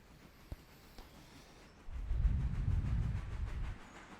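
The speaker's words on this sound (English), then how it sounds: "So now I gotta pull that 1 car out." A train in the railroad simulation game Railroader pulls a railroad car, a low rumbling roll that swells in after a couple of seconds, holds steady, then fades out, with a few faint clicks beforehand.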